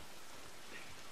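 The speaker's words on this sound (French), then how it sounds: "l'effet sonore, comme s'il y avait de la pluie sur le toit" Rain pattering on a roof in The Last of Us Part 2: a dense, steady hiss of drops, soft and even, with no voices.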